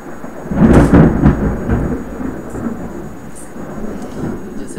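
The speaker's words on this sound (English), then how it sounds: "Ooh, that was lightning." Thunder rolls through a thunderstorm, a loud, deep rumble peaking early then fading into a lingering low grumble with faint rain-like hiss behind it.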